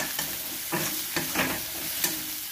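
Masala sautéing in a pan for a Bengali-style banana flower curry, a steady close sizzle broken by repeated scraping strokes of a spoon stirring the spices.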